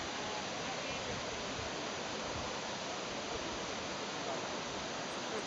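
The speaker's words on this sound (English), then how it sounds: "I don't think I've ever seen a waterfall quite like this." A waterfall near Luang Prabang, Laos pours with a steady, dense rushing hiss, unbroken and even from start to finish, moderately quiet and heard alone.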